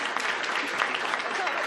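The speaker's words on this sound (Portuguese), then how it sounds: "eu quero pedir uma salva de palmas" Applause filling a meeting hall at a joint session, a fairly quiet but dense wash of many hands clapping steadily from start to end.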